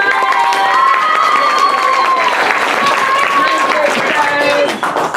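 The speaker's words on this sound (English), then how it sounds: "Give them a big round of applause" A roomful of people applauds the teams at a Revolutionary War themed class event, steady clapping blended with cheering and chatter, loud and continuous before easing at the very end.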